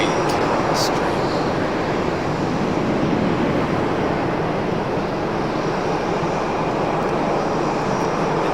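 A fixed-wing airliner at Raleigh Durham airport produces a steady, loud broadband jet roar that holds throughout, with a distant rushing quality and no talk over it.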